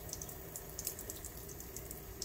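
Warm water from a tap runs steadily over tradescantia plant cuttings to rinse off bugs, a constant close splashing stream with small irregular drips and spatters on top.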